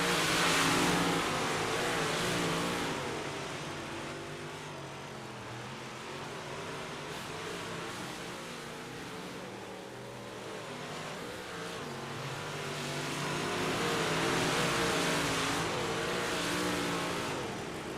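Small block modified race cars roar around the dirt track at Lima Land Motorsports Park, engines droning continuously and swelling as cars pass nearby, with a rising surge near the end.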